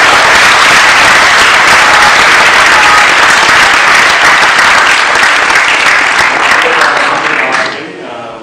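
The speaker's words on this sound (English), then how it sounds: "please give them a big round of applause" Loud, dense applause from an audience at a Sunday feast lecture in Vancouver, sustained clapping that fills the space and then tapers off at the end.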